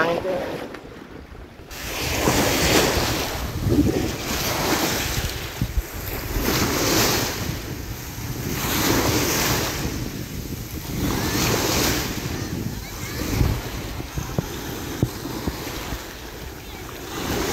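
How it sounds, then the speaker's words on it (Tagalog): Strong ocean surf at a windy beach waterpark, loud waves rolling in and washing back in slow repeating surges, with heavy wind buffeting the microphone throughout. "Bawal, malakas alon."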